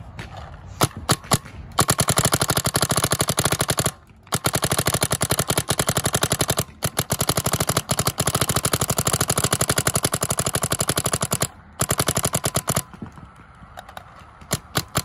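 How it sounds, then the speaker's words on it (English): A 2005 Bob Long Empire Intimidator paintball marker with a 16-inch one-piece stainless steel barrel fires long, rapid strings of sharp pops at close range, broken by a few short pauses. "I'm sure I could shoot a case of paint on this 77."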